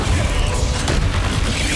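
Bombarda blasting spell in Hogwarts Legacy, a dense roaring explosion with rumbling low end that fills the moment loudly, no talking over it.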